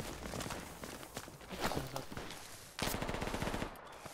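Gunfire in the video game Project Reality: rapid bursts of automatic fire crackle in quick succession, with a sharper, louder volley near the end, sounding fairly close amid background battle noise.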